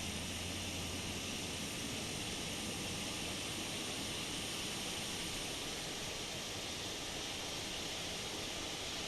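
An Airbus A320 engine in Microsoft Flight Simulator spools up as a steady, faint whine and broad roar, holding evenly throughout with no talk.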